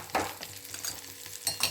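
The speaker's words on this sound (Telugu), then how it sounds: "మనకు సౌండ్ వస్తూ ఉంటుందండి, చిట్పట" Sweet potatoes crackle and sizzle softly in hot ghee, with light popping and occasional stirring scrapes, quiet and close.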